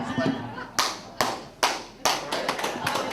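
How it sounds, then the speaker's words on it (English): Men in a church congregation clap in several loud, sharp bursts of hands, a few uneven rounds spaced through the moment, with a voice speaking at the start. "That's how men clap."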